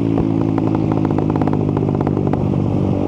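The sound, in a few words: Suzuki GSX 150 motorcycle rapid backfire anti-lag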